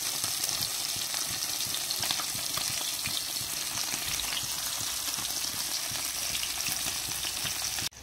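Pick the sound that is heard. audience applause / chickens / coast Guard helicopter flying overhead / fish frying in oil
fish frying in oil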